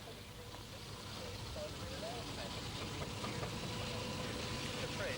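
A vintage steam traction engine drives a saw bench through a long canvas belt at a festival, giving a steady dense mechanical rumble and whirr throughout, with faint talk underneath.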